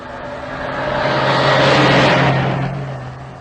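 A 1930s motor car approaches along a road and passes close by, its engine rising to a loud rush and then fading away, with no voices over it.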